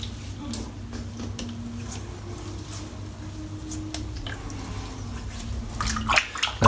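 Water trickling and splashing nearby during a wet shave with a Razorock Hulk razor and brush, soft and continuous with small wet squishes and a louder splash near the end.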